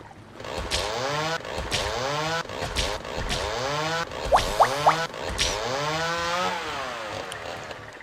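Buzzing, revving chainsaw enemy in the video game Defend Your Life, a continuous harmonic drone that rises and falls in pitch across the whole stretch, with a few short metallic zaps near the middle, steady and fairly loud.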